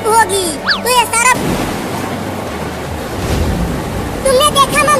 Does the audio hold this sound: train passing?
no